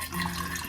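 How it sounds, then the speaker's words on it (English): Filtered water pours into a container for making homemade grape probiotic soda, a short, close burst of splashing liquid. "just some filtered water"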